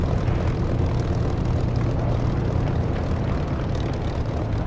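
Spitfire piston engine droning steadily in a flight simulator game, a loud continuous propeller-aircraft rumble held at an even level throughout with no talk over it.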